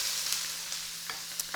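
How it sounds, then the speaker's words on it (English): Onions sizzle steadily in a pan for a chicken curry, a bright, even frying hiss with a few faint scrapes of stirring and a low background hum. "all you're going to do is add the onions"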